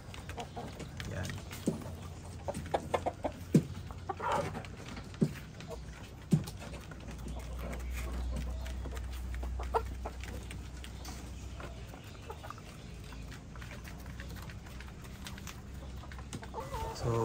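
Backyard chickens cluck softly in scattered, irregular bursts over a low outdoor rumble, with faint occasional clicks and knocks.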